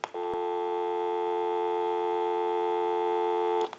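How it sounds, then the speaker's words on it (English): Dial tone from a TA 954 military field telephone, a single steady, loud hum that starts after a faint click and holds unchanged for over three seconds before cutting off. "That'll give us dial tone."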